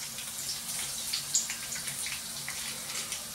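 A kitchen tap runs steadily while hands are washed, a close, even hiss of flowing water with small splashes and drips breaking through.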